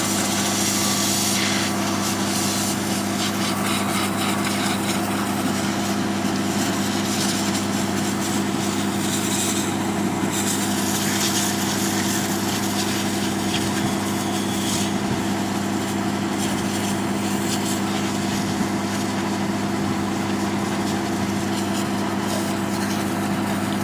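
A drilling rig engine runs at a borewell site with a loud, constant droning hum and steady vibration that holds unchanged for the whole stretch, with no one talking.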